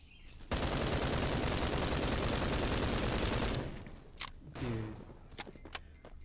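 A sustained automatic burst of gunfire from the video game Bullet Force, loud and continuous for about three seconds, followed by scattered single shots and thuds.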